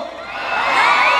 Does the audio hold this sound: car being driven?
no